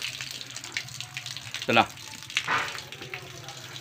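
Tap water runs steadily for bathing at a home, with two brief louder splashes partway through while someone speaks briefly over it.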